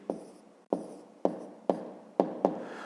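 Six short scratchy pen strokes on paper, each a sharp onset fading quickly, spaced about half a second apart, close and fairly quiet while numbers are written by hand.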